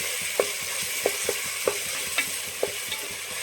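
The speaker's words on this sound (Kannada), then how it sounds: "ಟೊಮೆಟೊ ಫ್ರೈ ಮಾಡ್ತಾ ಇದ್ದೀವಿ" Tomato frying in oil for chicken sukka, a steady sizzle broken by repeated sharp spoon scrapes and taps against the pan as it is stirred.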